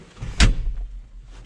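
The cab door of a large tractor shuts with a single solid thud, close by, followed by a low muffled hum inside the cab.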